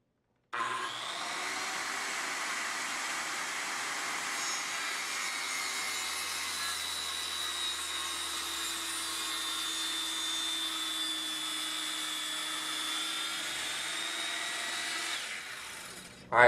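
A plunge saw mounted in a saw base cuts down through the base to form a zero-clearance edge, a loud steady whine that starts abruptly, holds evenly for about fifteen seconds, then spins down.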